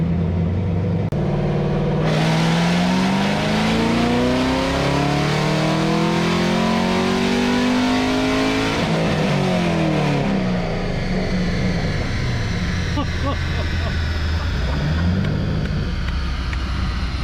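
A fifth-generation Camaro ZL1 runs a hard acceleration pass with a loud, close engine roar. It climbs steeply through the revs with rising pitch, then shifts and pulls again, staying continuous and aggressive throughout.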